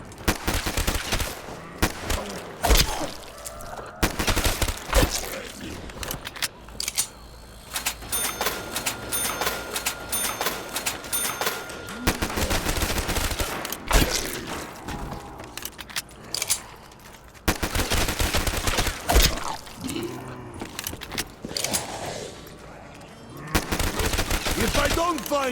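Gunfire in the video game Call of Duty Black Ops 3 Zombies, repeated sharp bursts and rapid machine-gun volleys with short gaps, loud and close across the whole stretch, with occasional talk mixed in.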